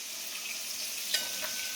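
Panch phoron spices frying in hot oil for a taro curry with hilsa head, a soft steady sizzle with a single faint crackle partway through, close and quiet, with no voices.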